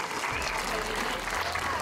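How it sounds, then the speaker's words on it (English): A crowd applauds a newly built community library, a dense burst of clapping filling the space with some voices mixed in. "Can we just get a round of applause for this library?"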